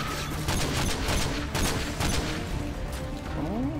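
Enemy gunfire in Call of Duty Modern Warfare 2: loud, rapid bursts of automatic shots crackle in several volleys, with mechanical clatter between them.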